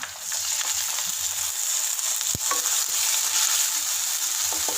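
Ginger garlic paste sautés with onion and garlic in a pan for Kerala-style fish curry, a constant close sizzle with one sharp tap midway and faint stirring scrapes.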